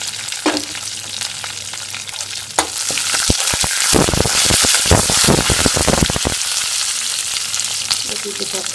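Curry leaves and finely chopped ginger fry in a pan with a loud, steady sizzle that swells into dense crackling and spattering midway, with no talk.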